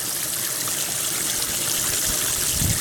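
Water rinses gold ore and lighter material down a sluice chute, a constant, loud, close rush of flowing water with a few low splashes near the end.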